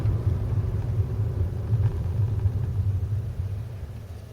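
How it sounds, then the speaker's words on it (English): A car pulls up to a stop on a road with a steady low engine rumble close by. The rumble stays fairly constant and slowly eases, with no voices. "now I'm going to pull up in a safe and convenient place"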